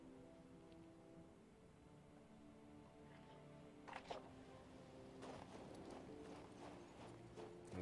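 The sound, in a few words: horse hooves clip-clop in video game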